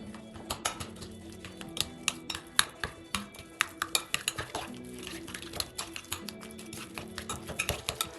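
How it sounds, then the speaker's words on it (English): Breakfast batter with sugar-free syrup being mixed in a bowl: a utensil clinks and taps against the sides in quick irregular strokes, close and fairly quiet, with no talking. "Now we're gonna mix this all up."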